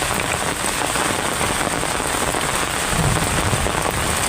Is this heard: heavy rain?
yes